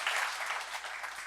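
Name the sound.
audience applause for Hyvä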